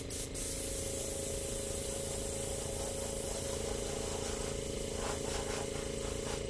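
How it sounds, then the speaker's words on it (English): An airbrush sprays thick acrylic paint in a continuous, close, even hiss with a faint underlying hum, with no pauses throughout. "we're going to the airbrush because I need a little bit more pressure"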